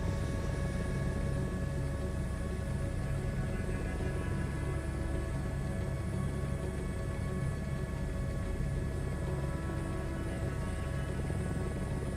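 A helicopter in Microsoft Flight Simulator drones steadily and loudly throughout, a constant rotor and engine roar with a thin high whine, with no speech.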